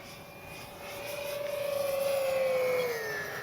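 An RC Avios Twin Otter model plane makes a fast speed pass, its motor whine rising and shifting in pitch as it swells louder toward the middle and then slowly fades, heard alone without talk.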